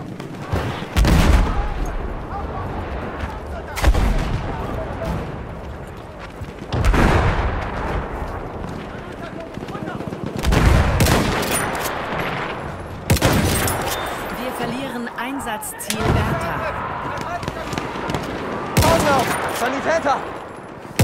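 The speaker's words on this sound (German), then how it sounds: "Maschinengewehr, eindeutig feindlich!" Enemy machine-gun fire in a World War video game comes as repeated heavy bursts and booming blasts at irregular intervals over a continuous battle din, with voices shouting now and then.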